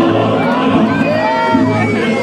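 A crowd at a folk wrestling fair cheers loudly, with whoops, whistles and mixed shouting voices rising together in a dense, continuous roar.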